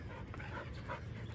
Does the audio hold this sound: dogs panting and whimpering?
yes